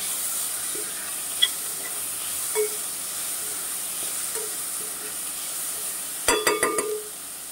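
Spices with turmeric and salt fry in a pan for spinach pulao, a steady soft sizzle and hiss with occasional light taps, then a quick burst of spoon clatter near the end.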